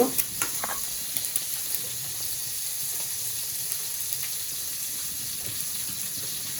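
A steady hissing sizzle rises as extra oil goes into a pan just used for frying eggs, with a few light clinks at the start and then a constant close frying sound.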